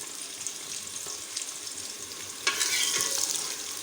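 Onions dropped into whole spices frying in oil for haleem bring a sudden burst of louder hissing sizzle that carries on steadily after a quieter crackle, heard close with no talking.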